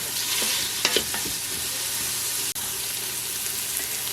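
Onions sauté in an Instant Pot with a steady, close hiss, while a spoon scrapes and stirs in several quick knocks early on and a single sharp tap cuts through near the end.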